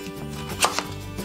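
A 1.5 kg radish is cut with a kitchen knife, two crisp chops landing close together, with faint handling noise around them.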